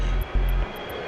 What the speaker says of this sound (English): To begin, a technician lifts the rotor into a balancing machine.